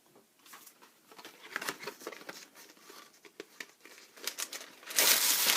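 Close, busy crinkling and rustling of paper being handled as a fresh sheet is taken during beeswax encaustic work on glassine or vellum, with irregular crackles throughout and a louder burst of rustling at the end.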